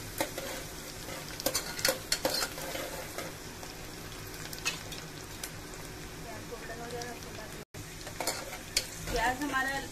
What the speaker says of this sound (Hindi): प्याज को हम हल्का गोल्डन करेंगे।